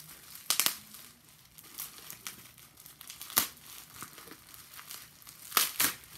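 Crinkly Amazon packaging being pulled and torn open nearby, quiet rustling broken by several sharp crackling bursts, with no talking.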